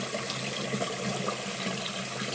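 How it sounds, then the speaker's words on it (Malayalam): Water runs steadily into a clay pot of washed Palakkad matta rice, giving a soft, even splash and gurgle nearby, with no one talking. "അതിൽ തന്നെ നമ്മൾ വെള്ളം പിടിച്ചു"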